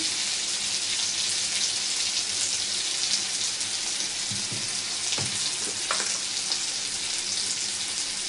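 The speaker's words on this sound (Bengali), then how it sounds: "টমেটোটা একটু ভাজা ভাজা করে নিয়ে" Chopped tomato frying in a pan for a Bengali pabda fish curry with eggplant, a steady close sizzle running the whole time with a few small pops and clinks over it.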